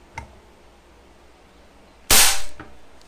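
A single loud gunshot fired over a chronograph cracks sharply with a brief ringing tail, preceded by a faint click, in an otherwise quiet outdoor setting.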